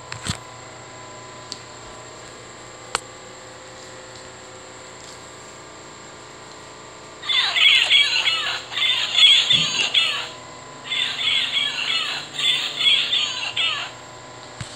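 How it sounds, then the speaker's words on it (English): Large Wild Republic Audubon toy blue-fronted Amazon parrot sounds its recorded call after several seconds of near silence with faint clicks: two close, bright runs of squawking chatter, the second after a brief pause. "Large blue-fronted Amazon."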